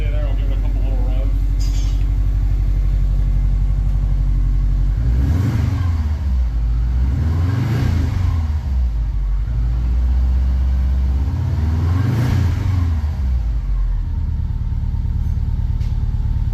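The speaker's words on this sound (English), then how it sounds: "I'll give it a couple little revs." A Subaru 2.5RS engine idles with a low steady rumble, then gets three loud revs in succession, each swelling and dropping back, recorded up close.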